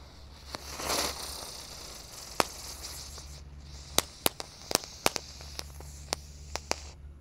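A spinning ground firework (jumbo spinner) hisses and sprays at night, punctuated by sharp crackling pops that quicken toward the end, fairly close by.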